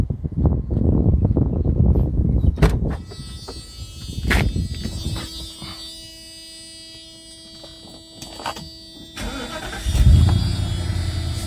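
A car engine cranks and starts with the key, then settles into a steady, even idle with a mid-pitched hum and a brief revving swell near the end, heard close with no talking.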